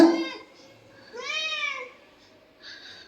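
A house cat meows three times in a room, each cry a clear, moderately loud, drawn-out call with short pauses between, the middle meow the longest and strongest; no one speaks over it.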